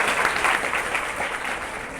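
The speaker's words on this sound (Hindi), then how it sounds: "शिवानी कुमारी, ताली बजाइए भाई लड़की के लिए भी।" Audience clapping at a prize distribution as a girl receives her award, a soft, even patter of many hands at moderate distance, fairly quiet throughout.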